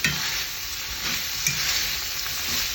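Zucchini and seasoned sausage sizzling in a pan, loud and close, with a continuous hiss and a few soft scraping thumps as the mixture is mashed and stirred.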